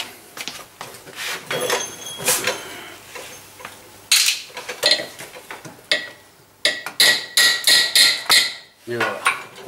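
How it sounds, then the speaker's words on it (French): A hammer taps repeatedly on the carburetor of a Suzuki ER21 as it is worked loose, giving a string of sharp close metallic knocks with clattering and scraping between blows. "Et un petit coup de marteau."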